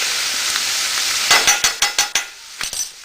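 Garlic sizzles in a hot pan, a steady frying hiss at close range, broken in the second half by a run of quick clinks and scrapes from stirring.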